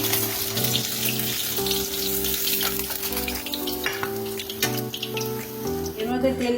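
Pieces of katla fish fry in hot oil with a steady, close sizzle and crackle that runs throughout, partly under a tonal background of music.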